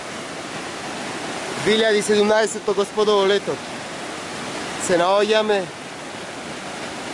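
Crvena Reka, a mountain river in Pelister National Park on Baba Mountain, rushes in a steady broadband roar; someone speaks over it twice.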